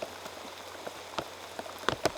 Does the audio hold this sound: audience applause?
no